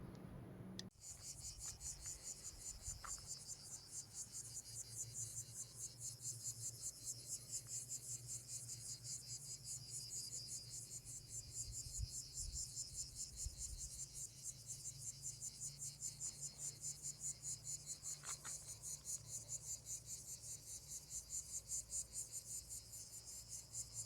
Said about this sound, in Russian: Послушайте, цикады разошлись не на шутку.